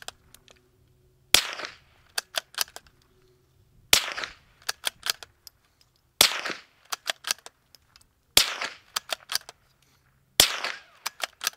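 Sharp gunshot cracks from a Witt Machine Mod 1 gun, five loud reports spaced a couple of seconds apart, each followed by a scatter of clicks and small metallic handling sounds in an otherwise quiet outdoor setting.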